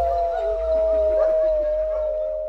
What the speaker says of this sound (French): le chien loup tchécoslovaque.